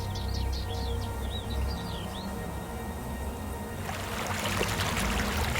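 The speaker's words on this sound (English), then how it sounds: "The river still flows." A river flows steadily with a soft broadband wash, birds chirping faintly in the background early on, and the water noise swelling louder toward the end.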